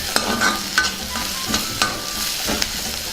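Boiled, peeled taro root pieces fry in a pan with a soft sizzle while a spoon scrapes and stirs in several distinct strokes, close and clear with no talking.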